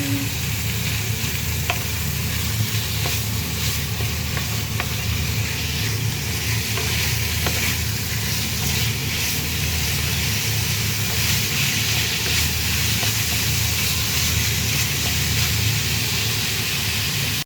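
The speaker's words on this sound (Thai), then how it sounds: "ผัดหมูอีกนะคะ ผัดหมูให้หอม" Ground pork stir-fried in a hot pan for a Thai noodle dish sizzles continuously and loudly, with scattered scraping and clinking from the utensil against the pan.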